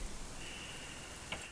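Steady rain falls in the farming video game Farming Simulator 25, a soft continuous hiss of drops with a faint tone running through it and one brief tap near the end.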